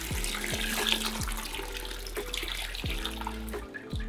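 Hot water at 80 °C poured a little at a time over a grain mash for a watermelon Berliner Weisse sour, a steady close trickle and splash of liquid draining through.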